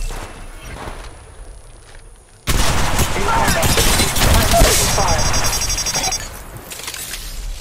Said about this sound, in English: Shots fired at me. Taking fire.